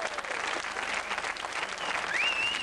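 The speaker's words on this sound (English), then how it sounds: "A round of applause for that one." Studio audience at a quiz night applauds a correct answer with brief, steady clapping, a faint whistle rising near the end.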